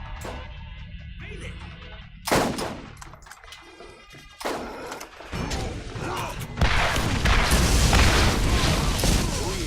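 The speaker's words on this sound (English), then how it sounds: "Someone's shooting rockets, unless that was you." Rockets fire in the Borderlands video game: sharp loud blasts and booms burst out among mechanical clicks and gunfire, building into a dense, continuous barrage toward the end.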